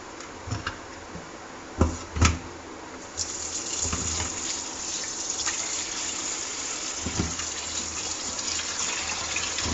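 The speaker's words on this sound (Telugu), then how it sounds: "ఇట్లా 3 సార్లు కానీ 4 సార్లు కానీ కడగాలన్నమాట ఫ్రెండ్స్ వాటర్లో." Dried prawns washed under a running kitchen tap: a few close thuds and splashes give way to a steady gushing stream of water filling a bowl, continuing unbroken to the end without voices.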